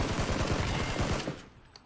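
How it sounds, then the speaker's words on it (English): A rapid burst of automatic gunfire from the video game PUBG, about a dozen sharp shots in quick succession, then an abrupt stop with a few faint clicks after. "Wow, that guy shoots good."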